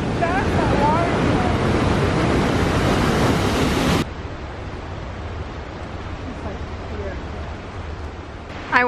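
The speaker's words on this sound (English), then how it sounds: "look how fast that water is." Fast-flowing river water in Fiordland National Park, New Zealand, roars as a steady broadband wash, loud and close, dropping to a softer, more distant flow partway through with faint outdoor noise.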